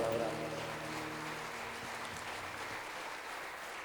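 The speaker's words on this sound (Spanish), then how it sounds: "Dale un aplauso al Señor por su palabra." Congregation applause in a church rings out as a soft, steady wash of clapping, with a voice audible briefly at the start before the clapping carries on alone.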